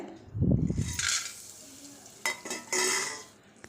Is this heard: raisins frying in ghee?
yes